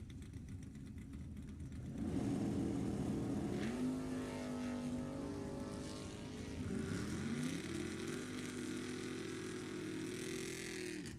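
Two drag cars, a 1969 Camaro in the left lane and a 1966 Mustang in the right, launch in a Super Pro bracket race at Sacramento Raceway; loud engines roar and rev up, then drone steadily on as the cars pull away down the track.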